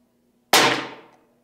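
A single sharp crack from an Umarex Iconix .22 unregulated PCP airgun shot at a target 35 yards away, loud and close, with a ringing tail that fades over about half a second. No talking.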